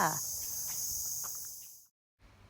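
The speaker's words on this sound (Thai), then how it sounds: "ก็เสียงจิ้งหรีด" Steady high-pitched cricket chirring fills the air at Khao Yai, Thailand, continuous and fairly loud, then cuts out abruptly before faint background noise returns.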